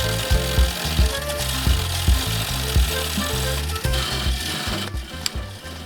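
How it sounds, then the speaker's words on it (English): A glued-up wooden bowl spinning on a lathe while being turned, heard as a continuous close rubbing, scraping drone with a steady low rumble and no talking. "a bigger piece of wood that then I could turn down on the lathe into a bowl"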